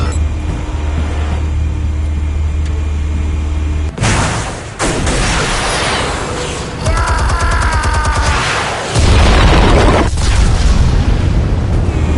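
Armed explosives detonating in a Batman film: a low rumbling bed gives way to a heavy boom near four seconds, followed by crackling debris and a sustained roaring blast that swells louder toward the end.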